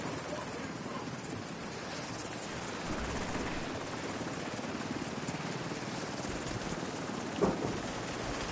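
A helicopter's steady rotor thrum drones continuously at moderate distance in the video game The Division 2, with a brief thump near the end and faint background noise.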